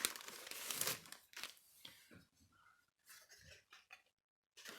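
Paper craft package being opened: crinkling and tearing of paper and card, loud rustles early then softer scattered crackles, close by, no talk.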